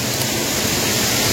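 The Pungbunga waterfall roars as a steady, loud, broadband rush of falling water, close and unbroken with no voices.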